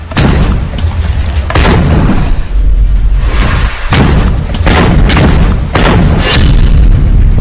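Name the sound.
Hamas firing a Yasin rocket at a Merkava tank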